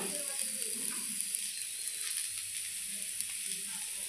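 Spices frying in a pan, a steady close hiss and sizzle that holds evenly throughout with faint crackles, no voice over it.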